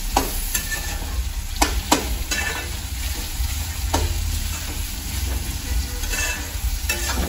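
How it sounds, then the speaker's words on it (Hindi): Chopped tomatoes fry in hot Indian masala, a steady sizzle broken by several sharp scrapes of a spoon stirring the pan. "अब इसमें हम डालेंगे कट किए हुए टमाटर"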